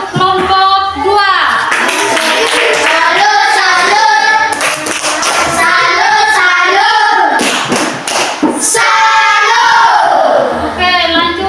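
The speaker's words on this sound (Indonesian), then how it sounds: "tepuk salut dulu untuk kelompok 2" Classroom 'tepuk salut' clapping for a student group during an elementary science lesson, children clapping together in a rhythmic pattern while chanting along, loud and close, with a teacher's voice mixed in.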